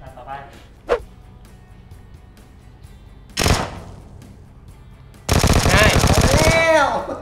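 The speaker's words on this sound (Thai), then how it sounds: "เวกเตอร์ครับเวกเตอร์" A Vector submachine gun fires in the video game PUBG, in short bursts: a brief crack, then a longer volley, then a sustained rapid burst of about one and a half seconds. Voices are heard between and around the shots.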